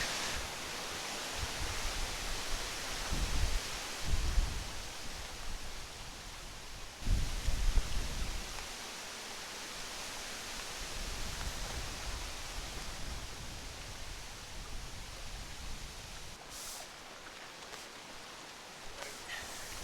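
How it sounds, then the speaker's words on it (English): Strong autumn wind buffets hammock poles at an urban hammock campsite, a broad, steady roar of rushing air with deeper low gusts surging near the mic and easing off, no voices. "that wind is pressing against the hammock poles"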